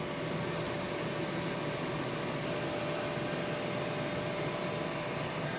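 A Ninja Foodi Smart XL Grill runs in air-fry mode with lobster tails inside, giving an even, continuous fan whir and hum at moderate volume with a faint steady tone and no voices.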